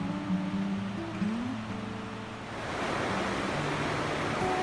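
Water rushes at the Tel Dan spring in a steady, broad wash of noise that grows fuller and louder in the second half, with a faint low hum early on.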